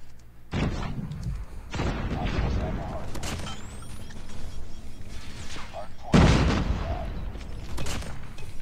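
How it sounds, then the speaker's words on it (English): An HS0405 shotgun fires in a COD Mobile match, three heavy booming blasts spaced a couple of seconds apart over gunfire and game noise, with a player talking excitedly between shots. "This shotgun might be really good."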